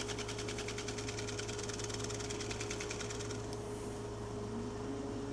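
A wood lathe spins a bowl at about 1,000 RPM, giving a steady, continuous mechanical hum and whir with a fine rapid rattle, constant in level throughout and heard alone.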